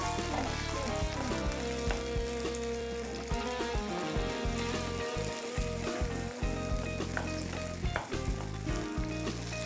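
Tomato sizzles steadily in a pan with amaranth leaf soup, a continuous loud frying crackle with occasional stirring scrapes throughout.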